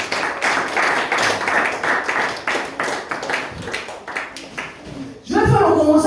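A church congregation clapping for Jesus in steady rhythmic claps, fairly close and loud, with a voice talking over the clapping and a sung or shouted phrase rising at the end.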